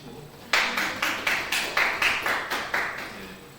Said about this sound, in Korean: 박수 치려면 치고